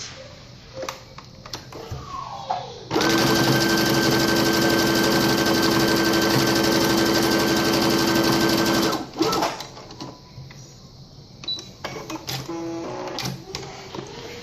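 A sewing machine stitches a felt gift bag shut in one loud, continuous whirring run of about six seconds, with quieter handling clicks and rustles before and after.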